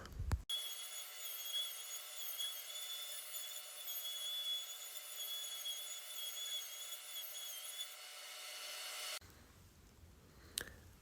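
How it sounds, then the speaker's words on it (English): A DeWalt random orbital sander with 180 grit sandpaper runs steadily for about nine seconds, smoothing wooden kennel doors, with a sustained high whine, then cuts off, leaving faint handling noise. "Again with the DeWalt random orbital sander, just hitting them with some 180 grit."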